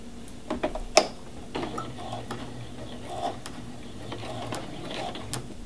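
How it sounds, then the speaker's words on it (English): A sewing machine runs around the edge of a pot holder, stitching on bias tape with a soft, rapid mechanical ticking and occasional louder clicks, fairly close and steady. "And you're just gonna sew all the way around your pot holder."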